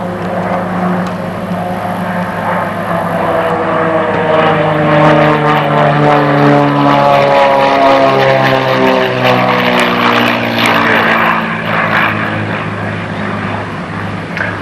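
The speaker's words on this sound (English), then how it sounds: "Listen for the sound as Bob comes down, and it will suddenly get very quiet up there" A piston-engine aerobatic airplane flown at an air race and air show passes by, its propeller drone loud and steady with harmonics sliding downward as it goes past, sustained throughout with no talk.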